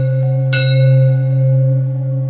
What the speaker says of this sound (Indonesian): bel pasien berbunyi terus